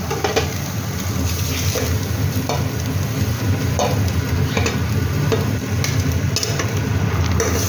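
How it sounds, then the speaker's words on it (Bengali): Chicken meat being stirred and fried in a pan for egg chicken chowmein at a street food stall, with steady close sizzling and repeated scraping stir strokes throughout. "ভালো করে একটু নাড়াচাড়া করে দেবো যতক্ষণ না এটা ভালো করে ফ্রাই হচ্ছে"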